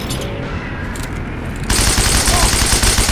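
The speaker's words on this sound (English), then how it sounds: "This MG, Russian MG, needs only two bullets to kill a guy." Russian MG machine gun in the Heroes & Generals video game firing continuously, a dense loud stream of rapid shots that intensifies sharply midway and keeps rattling to the end, with no talk over it.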